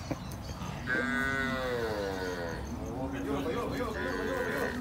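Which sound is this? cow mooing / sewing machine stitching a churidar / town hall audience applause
cow mooing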